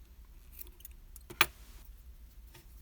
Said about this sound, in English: we can cut this yellow yarn